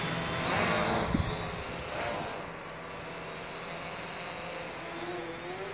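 Quadcopter taking off and flying, a steady, dense motor and propeller whine that holds throughout at moderate loudness.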